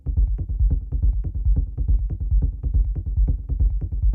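Sub bass rumble on an Elektron Syntakt, two or three low layers soaked in reverb and delay, pulsing in a dense, steady rhythmic throb with no kick drum and no voices.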